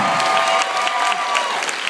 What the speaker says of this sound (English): A nice round of applause for the stars this time.